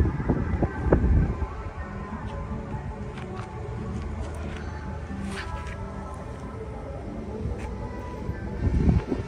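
Strong wind sweeps across open green fields, buffeting the microphone with a steady low rumble that swells into louder gusts at the start and end; no clear voices stand out.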